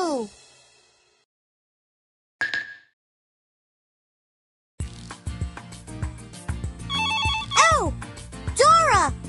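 A brief electronic phone ring in a cartoon sounds alone in quiet, followed after a pause by loud, busy music with swooping tones.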